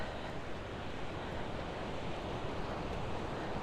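Steady broadband rush of sea waves rolling onto a beach, continuous and even, with no voices.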